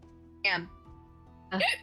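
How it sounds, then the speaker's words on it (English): A person hiccups twice, about a second apart, with short, sharp voiced bursts during a tabletop role-playing game session. A single word is spoken softly among them. "Sorry, that was a hiccup."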